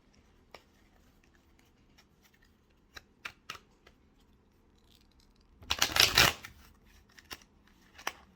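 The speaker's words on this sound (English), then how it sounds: "I'm going to shuffle it up again." A brief burst of card shuffling in the middle, surrounded by scattered soft clicks and taps in an otherwise quiet room.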